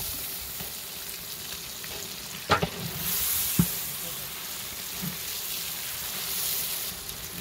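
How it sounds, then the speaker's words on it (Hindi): Boneless chicken frying in a pan, a continuous close sizzle with a couple of sharp clanks and scraping stirs from a spoon against the metal. "यहाँ पे चिकन को अच्छी तरह भून लेंगे।"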